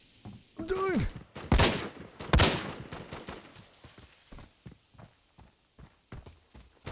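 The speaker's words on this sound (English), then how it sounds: "the gunshots are so freaking loud, actually" Gunfire rings out in the first-person shooter Arena Breakout as a string of sharp, loud reports and thuds in irregular bursts, with a player's voice briefly heard early on.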